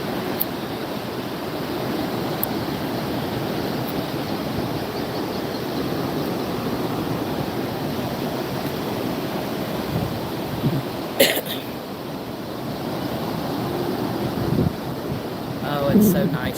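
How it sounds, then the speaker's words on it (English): Steady roar of surf fills the whole stretch, loud and continuous, with a few brief bumps and gusts of wind noise near the end. "The waves are extremely loud."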